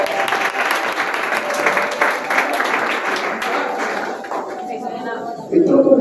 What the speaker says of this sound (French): applaudissez très très fort